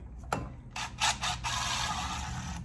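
An impact wrench fitted with a T30 bit on an extension removes a small bolt from a 2015 Chevy Silverado 1500 LT, giving a brief close click, then short rattling bursts that settle into a sustained hammering buzz.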